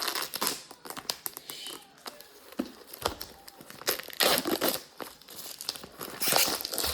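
Plastic packaging of a slime kit is snipped and pulled open in a run of close, sharp crinkles and tearing rustles, bursting irregularly with short pauses and no talk over it.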